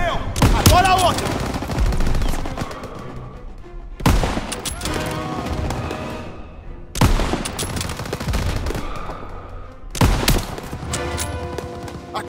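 Call of Duty WW2 battle audio with rifle shots and rattling machine-gun fire arriving in loud dense waves about every three seconds. Heavy combat noise sits underneath throughout.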